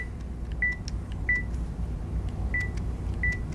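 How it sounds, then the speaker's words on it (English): Short, high electronic autofocus-lock beeps from a Leica Q camera sound four times at irregular intervals over faint background hum and light clicks. "Every time it beeps, it's locking focus."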